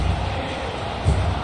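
A football stadium crowd in a video game roars as a steady broad wash of noise, swelling briefly near the end, loud and continuous with no clear speech.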